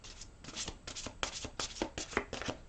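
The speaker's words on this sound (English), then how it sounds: "One more shuffle." Close, continuous riffling and flapping of large cards being shuffled by hand, with quick bursts of papery slaps.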